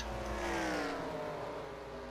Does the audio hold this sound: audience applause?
no